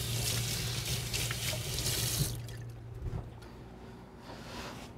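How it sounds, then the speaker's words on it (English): Water from a kitchen tap runs steadily as a knife is rinsed under it while artichokes are prepared, a close, broadband rush that cuts off partway, leaving quieter sink noise. "Rinse my knife."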